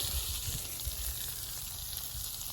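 A smash burger patty sizzles steadily on a hot flat cooking surface. The frying is continuous and moderately loud, with no talking.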